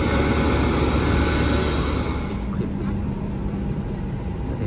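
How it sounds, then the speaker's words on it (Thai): Steady airplane cabin engine drone on a flight from Udon Thani, a continuous broad roar with a high whine that drops away midway, loud and unbroken without talk. "ได้นั่งเครื่องบินแล้ว"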